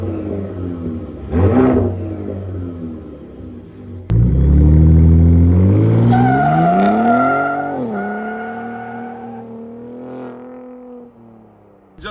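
A third-generation Ford F-150 Raptor with an AWE catback exhaust in its fully open Baja mode, revving: a short blip near the start, then a loud sustained rev that climbs, falls and climbs again before settling to a rumbling idle.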